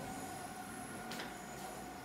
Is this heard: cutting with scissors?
no